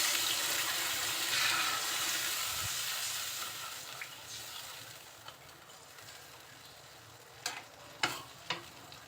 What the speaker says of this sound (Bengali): মশলার সাথে কষানোর পরে খুব অল্প পরিমাণে একটু ঝোলের পানি দিয়ে দিচ্ছি